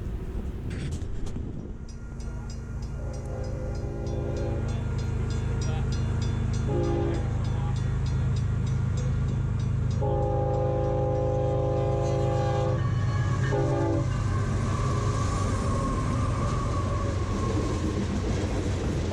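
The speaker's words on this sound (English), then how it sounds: "a northbound freight train heading for the Pacific Northwest has to get out of the way, and quickly" A northbound Union Pacific freight train rumbles steadily past in Elverta, its horn sounding in several long blasts, loud and close, with the rolling clatter continuing after.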